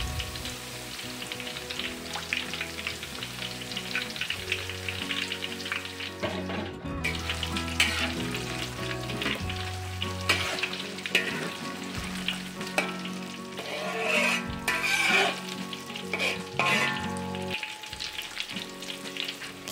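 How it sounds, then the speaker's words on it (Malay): Battered banana fritters (pisang goreng) deep-fry in hot oil with a dense, continuous sizzle and crackle. Occasional stirring and utensil clinks sound over the bubbling, with faint background music underneath. "Kita goreng pisang ni sehingga ianya bertukar kepada warna keemasan."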